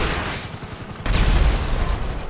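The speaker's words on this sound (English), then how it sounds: "Okay, we'll take rockets then." Rockets blasting among enemies in a video game, a rumbling run of booms that thickens into a loud, continuous low-end barrage halfway through, with no voices over it.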